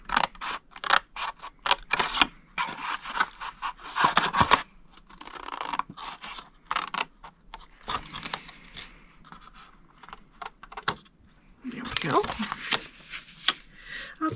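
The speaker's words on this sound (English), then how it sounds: "we're going to cut off all 4 of these, because this is going to make our flap on the top" Scissors snip through cardstock for an Easter bunny treat box, a quick series of close, crisp cuts with pauses between runs, while someone talks over much of the cutting.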